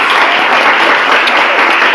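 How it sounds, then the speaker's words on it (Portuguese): Loud, dense applause from an audience at an education talk, an even, continuous roar of clapping throughout. "Então, aplausos para vocês."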